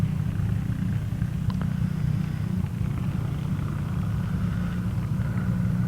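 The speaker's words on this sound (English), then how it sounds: "It's a John Deere B." An antique John Deere B tractor idles at an outdoor tractor show, a steady low rumbling engine drone that carries on throughout without pause.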